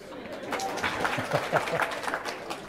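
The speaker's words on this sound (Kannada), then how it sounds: "ಚಪ್ಪಾಳೆ ಹಾಕಿ" Audience applause at a Kannada discourse on the Srimad Ramayana, a steady wash of clapping from a gathered crowd at moderate level, with some murmuring mixed in.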